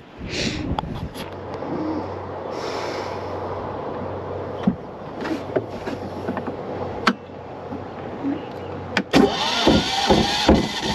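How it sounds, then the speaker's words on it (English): Boat engine on a sailboat cruising the Bay of Islands, New Zealand, started by turning it over with vice grips; a steady low engine drone runs throughout with scattered clicks and knocks, rising into a louder, busier rumble near the end. "there is nothing wrong with starting the engine like this"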